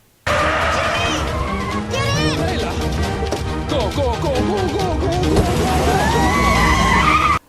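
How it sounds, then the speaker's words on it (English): A movie car chase fills the scene with continuous loud engine roar, squealing tire skids that rise and fall, and crash-like impacts, with voices mixed into the din throughout. "After a short car chase scene"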